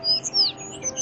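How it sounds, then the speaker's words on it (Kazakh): Sparrows give a quick burst of high, thin chirps, several short tweets in a second against faint background hum. "Анау жақта торғайлар шырылдап тұр."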